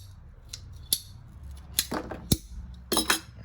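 Scissors cut through material, likely tubing trimmed to 4.5 inches during a Thumler's Tumbler A-R1 shaft rebuild, heard as several sharp, close snips and clicks spaced irregularly over a quiet background.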